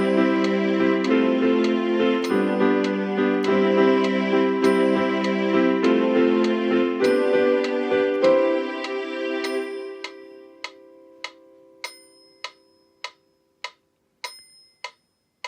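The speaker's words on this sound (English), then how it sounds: "And then we just turn on the metronome." A Casio CT-X5000 keyboard plays recorded music with its metronome clicking along; the music fades out after about ten seconds, leaving the metronome's sharp, evenly spaced ticks sounding alone.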